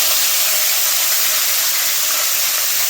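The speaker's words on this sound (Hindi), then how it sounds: "तो यहाँ पे मैं हरी सब्जी छौंकने लग गई हूँ।" Green vegetables and chilies hit very hot oil in a pan with a loud, continuous, close sizzle and hiss.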